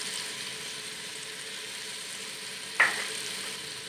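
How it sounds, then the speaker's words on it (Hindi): Spices sizzle gently in a pan for chana pulao, a soft steady frying hiss with a single brief stir or clink near the end. "अच्छी तरह से फ्राई कर लेंगे।"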